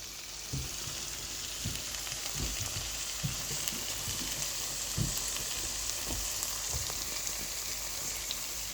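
Pre-fried chicken sizzles steadily in a pan over medium-low heat while making dragon chicken, a dense continuous frying crackle with occasional soft stirring knocks, close and alone with no talk.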